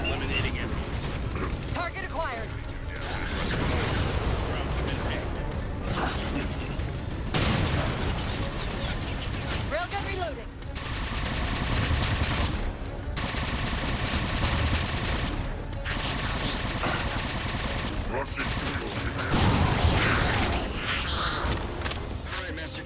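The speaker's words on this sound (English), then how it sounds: "Target those phantoms for the railgun to shoot down." Dense Halo 4 combat with rapid bursts of gunfire, heavy mechanical railgun booms and clanking, continuous throughout, with radio-style voices talking over the action.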